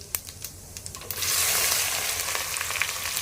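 Onion going into hot oil with cumin: a few light clicks and taps, then a sudden loud, steady sizzle that keeps hissing close up to the end.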